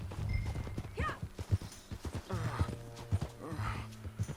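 Horse hooves clip-clopping at a steady walking rhythm while riding on a road in the video game Red Dead Redemption 2, close and even, with game voices and ambience underneath.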